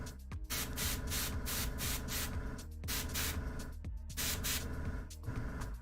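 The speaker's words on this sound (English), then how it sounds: "Same with the airbrush noises." Airbrush spraying paint while an air compressor runs, a loud steady hiss filling the whole stretch with brief dips where the trigger is released, no talking.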